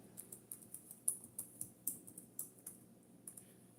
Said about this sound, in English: I'm going to type it in